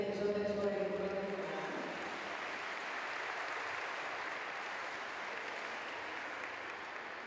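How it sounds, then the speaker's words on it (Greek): Sustained audience applause for a Greek folk dance group at an event, a dense, steady wash of clapping lasting throughout, with a voice announcing over the opening moments before the clapping carries on alone. "Θα θέλαμε να τις χειροκροτήσετε πολύ δυνατά"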